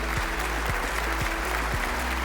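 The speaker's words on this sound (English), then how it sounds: "Let's hear a round of applause to welcome him on stage." Audience applause at a preschool launch event welcoming a speaker onto the stage, steady clapping that fills the whole span over a low, rhythmic background hum and thumping music.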